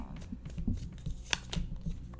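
Tarot cards being shuffled by hand in quiet soft riffles and taps, close and faint, with a brief sharper snap midway and no speech.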